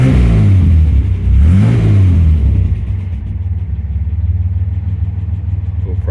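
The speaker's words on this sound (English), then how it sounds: "Let's just give it a little blip for you." A 1969 MG MGC roadster's restored engine rumbles loudly up close, rising in a quick rev blip before settling back to a steady, throbbing idle.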